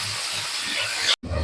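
Steam hisses steadily from a lidded frying pan holding teasel gourd and potato fry seasoned with turmeric and salt, a close broadband rush that cuts out briefly near the end before resuming.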